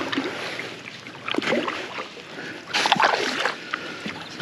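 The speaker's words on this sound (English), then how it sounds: "So we're going to paddle upstream and see where we can get to." A canoe is paddled upstream on a river, with intermittent splashes and sloshing strokes against soft background noise.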